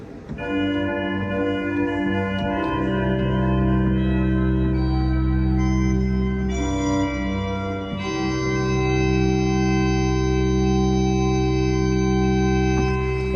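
Sustained pipe organ chords on a five-rank cornet registration at Liverpool Metropolitan Cathedral, with a bright, reedy, layered tone, played alone and changing harmony several times.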